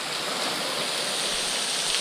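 Water pours steadily over a partly frozen waterfall hung with icicles, heard on an offroad camping trip as a constant, dense rushing hiss close by, with no voices.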